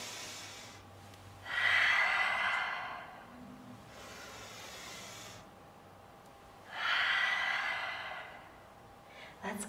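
Two long, loud, breathy exhales, airy and whooshing, in a children's calming yoga session, each lasting a couple of seconds, with a softer breath between them over a low steady background hum.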